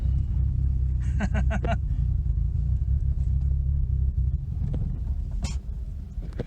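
A 1982 Plymouth Reliant drives along, its low engine and road rumble steady and close throughout, with a brief burst of voices partway through.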